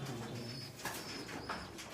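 Several balance pigeons in a breeding loft keep up low, throaty cooing, with a few faint high chirps mixed in and no talking.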